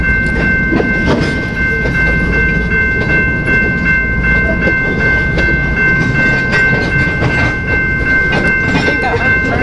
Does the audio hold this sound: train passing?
yes